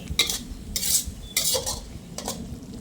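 Long beans with red curry paste and minced pork are stir-fried in a pan, with bursts of sizzling and scraping strokes of a utensil against the metal, close and distinct with short pauses between strokes.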